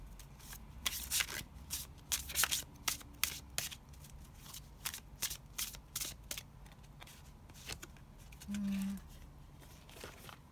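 Oracle cards are shuffled by hand in quick rounds of riffling and flicking, with close, papery bursts that come in an irregular rhythm and a faint tonal hum in the background.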